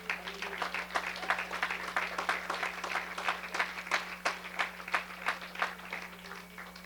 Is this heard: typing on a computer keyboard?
no